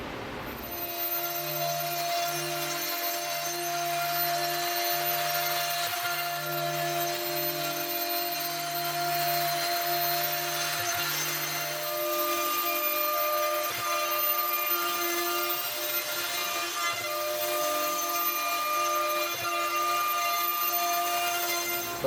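A CNC router surfaces a wooden chessboard frame, taking about a millimetre off the whole face, with a steady high machine whine and a droning cutter grinding across the wood.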